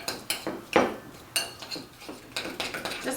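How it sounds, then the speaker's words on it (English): A utensil stirring cream cheese with sugar and vanilla extract in a bowl, giving a series of close, irregular scrapes and clinks against the bowl. "Then go ahead and just stir this to combine it."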